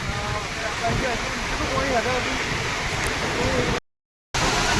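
Water pouring over Mukteshwar Dam in high flow, a dense continuous roar close by, with faint voices underneath and a brief dropout near the end before the rush resumes.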